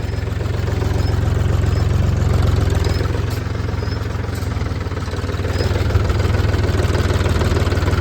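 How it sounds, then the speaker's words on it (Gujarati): A tractor engine runs steadily close by, a low rhythmic chugging drone with a faint mechanical whine above it, no voices. "ટ્રેક્ટર ચલાવી रिया छे જોઈ सको छो"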